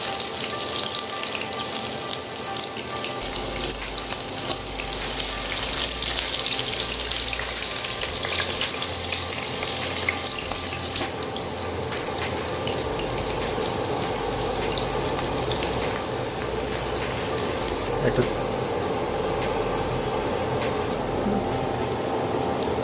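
Onions and black cardamom, with cloves and green cardamom, frying in a pan for a spicy methi chicken curry, giving a steady, dense sizzle that runs unbroken throughout with no talking.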